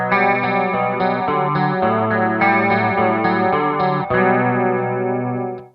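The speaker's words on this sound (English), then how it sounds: "Now, add chorus to that." Electric guitar chords through compression and chorus pedals, with a compressed, shimmering tone. The notes sustain smoothly and change steadily, with a brief dip before the final ringing chord.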